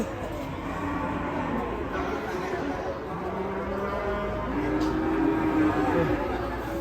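Agitated cattle lowing at a farm or livestock yard, steady moos rising over a continuous murmur of crowd chatter and people talking nearby.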